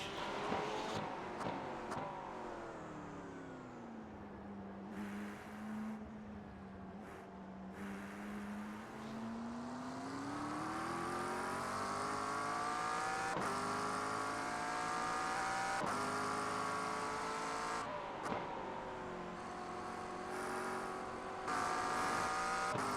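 GT3 race car engines from a Porsche and a Ferrari roar through a Nürburgring racing video game at night, one steady, loud engine note climbing and falling with gear changes, with no talk.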